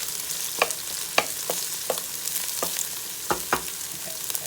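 Vegetables for curry chicken sauté in an electric cooker, giving a steady close sizzle broken by several sharp knocks and scrapes of a utensil stirring the pan.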